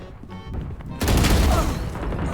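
Gunfire in the video game Valorant: a burst of rapid shots hits abruptly after a second of quieter game sound and keeps rattling loudly to the end.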